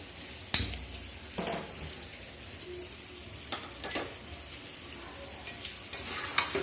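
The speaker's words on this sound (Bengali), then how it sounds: "তো দেখো এটা এখন গরম করব, গরম করে তারপরে ফ্রাইড রাইসে দেবো" Leftover rice sizzles in a hot pan while being reheated for fried rice, with intermittent sharp scrapes and stirs of a utensil against the pan over a soft steady frying hiss.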